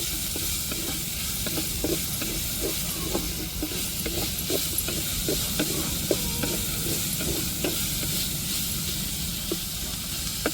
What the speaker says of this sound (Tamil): இஞ்சி பூண்டு பச்சை வடை மாறத்தட்டிக்கு நல்லா வதக்கி விட்டுக்கோங்க